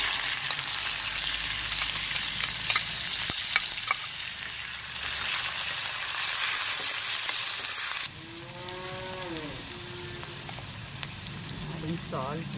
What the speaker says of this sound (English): We can add shallots now.